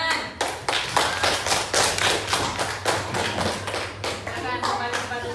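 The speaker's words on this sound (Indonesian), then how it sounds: "Oke, tepuk tangan." Classroom group of students clapping hands together, a fairly steady run of close, sharp claps that continues for several seconds with faint voices underneath.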